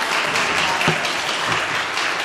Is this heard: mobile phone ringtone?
no